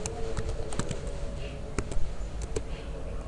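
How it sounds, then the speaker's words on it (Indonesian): Commands are typed on a computer keyboard in quick, irregular bursts of soft clicks and taps, fairly close and quiet, with no talking. "kita lanjut untuk mengetik perintah"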